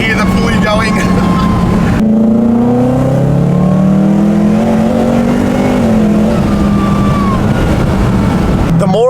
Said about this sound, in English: you can tell it's supercharged, there's no mistaking it